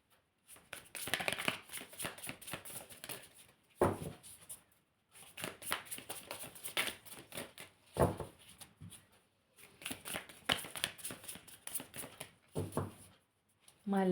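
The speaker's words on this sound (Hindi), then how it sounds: "My last shuffle." A deck of tarot cards is shuffled by hand in repeated bursts of crisp riffling and slapping, each round ending in a sharp tap, with short quiet pauses between rounds.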